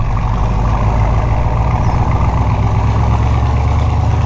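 A 1966 Corvette Stingray 427 Turbo Jet convertible engine running while driving, a loud, steady low rumble with constant road and wind noise, heard from inside the car with no talking.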